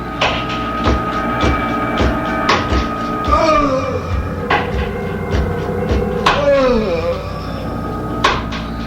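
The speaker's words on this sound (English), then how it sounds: "I can still hear the stake going through my heart" Heavy, repeated thudding blows like a stake being hammered in, mixed with creaking, groaning tones and wet crunching impacts.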